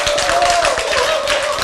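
An audience in a lecture hall claps in a quick, fairly loud burst of rhythmic hand claps, with a voice or sustained tone audible underneath.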